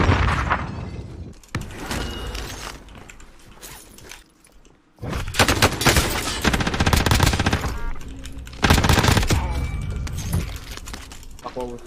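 Bursts of automatic and single gunfire in Call of Duty Warzone, close and loud, in rapid strings broken by short pauses, with excited voices talking over the shooting.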